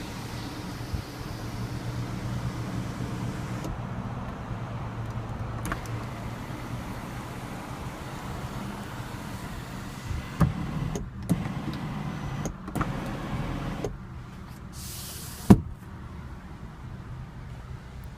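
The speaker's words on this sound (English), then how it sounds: "And here we have the open, close and tilt moonroof." A power moonroof on a 2014 Mercedes-Benz C350 opens, closes and tilts in the cabin, giving a steady low electric motor hum with a few soft clicks and thumps as it stops and changes direction near the end.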